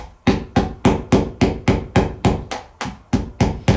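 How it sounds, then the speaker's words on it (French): A hammer strikes the edges of dance pointe shoes to soften them, about thirteen close, loud, evenly spaced thuds in a steady rhythm. "ce que moi je fais, c'est qu'à l'aide du marteau,"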